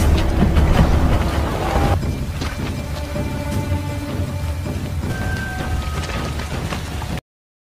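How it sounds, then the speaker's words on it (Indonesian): Heavy rain pours down on a Burmese army camp in a Rambo action film scene, a dense, steady roar of downpour that starts loud and settles into a constant wash, with faint tonal sounds underneath and no talking. "Hujan deras yang mengguyur markas pasukan Burma"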